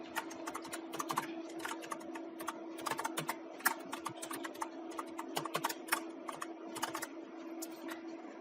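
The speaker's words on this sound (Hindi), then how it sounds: "तो कोई टेक्स्ट हम लोग टाइप कर लेते हैं।" Computer keys clatter in quick irregular bursts as text is typed into a word processor, close and steady over a constant low hum.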